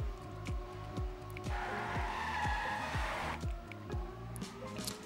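Race car engine in a racing video game at an esports qualifier, revving in repeated rising pulls with quick gear shifts and tire squeal, steady and close with no talk over it.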